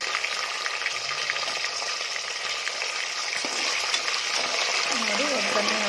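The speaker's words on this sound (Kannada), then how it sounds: "ಒಗ್ಗರಣೆ ಹಾಕ್ಕೊಂಡ್ಬಿಟ್ಟು ಚೆನ್ನಾಗಿ ಕೈ ಆಡಿಸ್ಕೊಂಡು ಮಸಾಲೆ ಕಾಳು ಎಲ್ಲನೂ" Whole spices sizzle steadily in hot oil as a tempering for palak pulao, a dense continuous frying hiss with light stirring scrapes, and a voice speaks briefly near the end.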